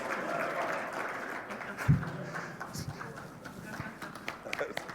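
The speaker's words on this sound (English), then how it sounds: "You guys got to clap a long time." Audience applause at a fintech conference session on Web3 regulation as panelists walk onstage, continuous clapping with a thump and some footsteps, and voices talking over it.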